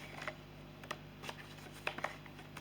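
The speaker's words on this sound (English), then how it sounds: "I'm gonna be shuffling and I'm gonna be showing you your cards later" Playing cards are shuffled by hand for a pick-a-card reading, producing soft, scattered riffling clicks and taps that are quiet and close, with no talking.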